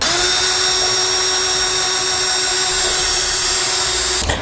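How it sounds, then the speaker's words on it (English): A power drill with a small bit whines steadily and loudly, holding one high pitch as it bores a pilot hole through a Ram 2500 truck's metal cross member for several seconds, then winds down abruptly at the end. "We'll need to drill through the center of these with a small drill bit to make a pilot hole"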